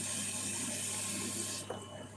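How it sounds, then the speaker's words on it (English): Water poured into a cooking pot while local Nigerian white soup with dry fish is being made, a steady hissing gush that cuts off near the end, followed by quieter splashing and dripping. "So I'm going to add more water."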